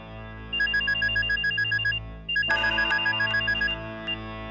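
A telephone rings indoors in two repeated bursts of electronic trilling, loud and close, with a clatter between the bursts and no voices.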